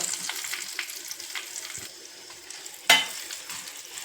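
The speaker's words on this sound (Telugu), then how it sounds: "తాలింపు అంతా ఇట్లా మంచిగా దూరగా వేగినాక" Tempering of dried red chillies, curry leaves, turmeric and asafoetida frying in oil for raw tamarind chutney, a continuous close crackling sizzle with a sharp pop or clatter near the end.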